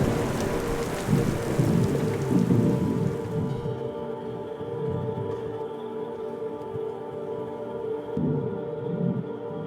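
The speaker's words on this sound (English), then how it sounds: "More storms moved through the area as lightning put on a fantastic show." Heavy rain pours steadily during a thunderstorm over a rural barndominium build site, with deep rolling thunder rumbling underneath throughout; the downpour is loud and constant, and no one speaks.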